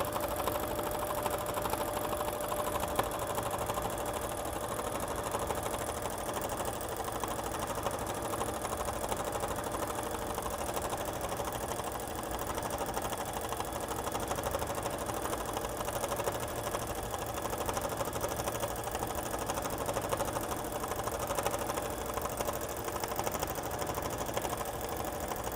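A sewing machine quilting on a Grace Cutie tabletop fabric frame runs with a steady, continuous mechanical whir and rapid stitching rattle, close and even throughout with no talk.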